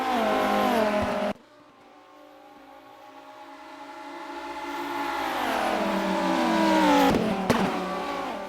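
A Viper race car in the rFactor racing game, engine screaming near the rev limit, loud and steady as it climbs through gears with a sharp drop at a shift and rising whine afterward.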